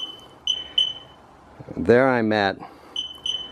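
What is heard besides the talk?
Rostra 250-5110 backup sensor beeping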